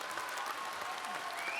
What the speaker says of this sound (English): The crowd joins in to the warding festival as applause rings out